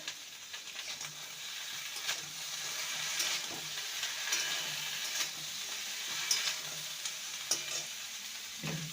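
Pumpkin stems sizzle in a pan while being stirred, a soft continuous frying hiss broken by light scraping strokes at irregular intervals, close by and fairly quiet.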